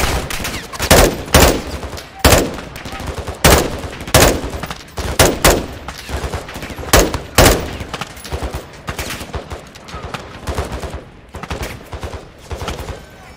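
Gunfire in the video game Call of Duty Modern Warfare 2, loud close bursts of rifle shots and rapid automatic fire in irregular clusters, with fainter shots continuing between them.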